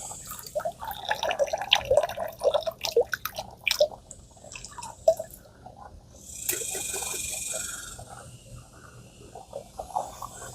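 Water drips and trickles in short, irregular bursts while a pool-cleaning sponge is rinsed out, followed by a steadier stretch of running, splashing water near the end.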